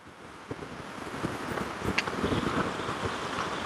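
Rough, heavy sea surf roaring onto a Sri Lankan beach beside a hotel, a steady broadband rush with wind buffeting the microphone and occasional louder wave surges, no talking.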